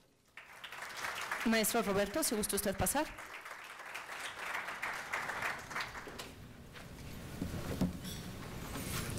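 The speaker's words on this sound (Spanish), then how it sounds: "Para ellos, un cordial aplauso." Audience applause at an academic seminar in Mexico rises and continues at moderate level across the clip, while someone speaks over it and brief clattering and shuffling sounds pass through.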